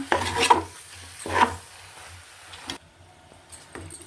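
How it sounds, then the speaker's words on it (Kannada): Chicken is stirred with masala in a pot for village-style country chicken biryani, giving a few scraping, sizzling strokes up close and then quieter moments, with no talk. "ಇದೆಲ್ಲ ಚೆನ್ನಾಗಿ ಮಿಕ್ಸ್ ಆಗಬೇಕು ಸ್ಥಳ ಹಿಡಿತಾ ಇದೆ ಬೇಗ ಬೇಗ ಮಿಕ್ಸ್ ಮಾಡ್ಕೊಂಬಿಡೋಣ"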